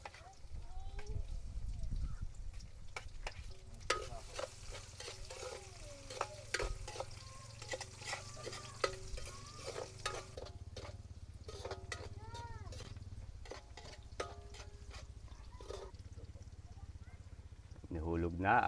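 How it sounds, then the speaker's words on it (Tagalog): Onion, garlic and ginger sautéing in a pan for balbacua, a carabao hooves and skin stew, with steady sizzling and frying under frequent talk and clinks of utensils. "Gigisa na tayo ng sibuyas, bawang at luya."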